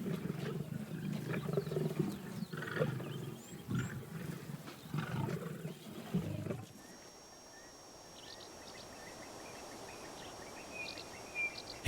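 A white lion gives a series of deep, rumbling roars and grunts nearby, followed by quiet ambience with faint bird chirps.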